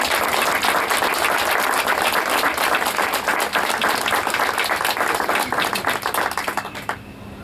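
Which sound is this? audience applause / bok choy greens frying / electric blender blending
audience applause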